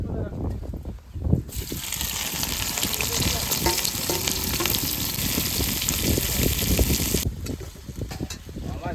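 Chopped onion is dropped into hot oil already holding cumin seeds and bay leaf. A loud, dense sizzle erupts and roars steadily for several seconds, then drops back. Quieter kitchen sounds can be heard before and after.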